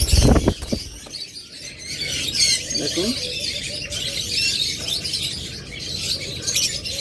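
Caged pet lovebirds, budgerigars and cockatiels chirp and twitter in a busy continuous chorus, with some wing flutter, while someone talks over them.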